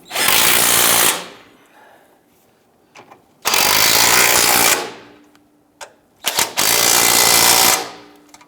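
A power tool drives home the starter bolts on a 1994-2004 Ford Mustang 3.8L V6: three loud, close whirring bursts of about a second each, separated by short quiet gaps with faint clicks.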